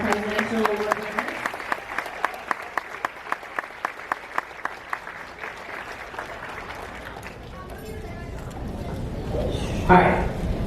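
A graduation audience claps for presidential award winners at a fifth-grade ceremony, with sharp individual claps and a murmur of crowd talk, fading into chatter and a brief louder bump near the end.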